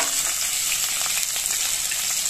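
Chopped onion hitting hot oil in a wok, a steady, close, bright sizzle of frying with no talking.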